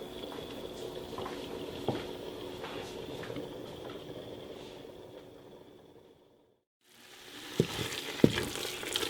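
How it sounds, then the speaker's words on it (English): Armenian harissa cooking uncovered in a pot on medium-low heat, a soft continuous bubbling sizzle with faint stirring clicks, close, briefly dropping out before resuming. "And you will cook harissa on medium to low heat."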